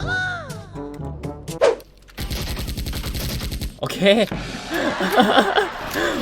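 Rapid bursts of Uzi submachine gunfire in the online shooter Special Force, loud and close, with game sound effects and excited talk around the shots.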